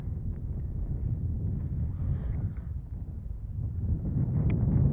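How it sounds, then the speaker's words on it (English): Wind buffets a microphone outdoors at an RC model airfield, a steady low rumbling roar that swells slightly toward the end, with no talk. "A little bit windy out here right now."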